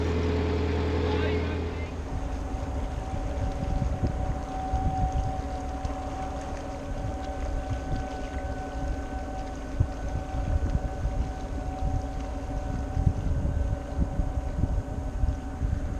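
A narrowboat on a canal near Carnforth drones with a steady low engine hum and chug, overlaid by broadband wind noise on the microphone throughout.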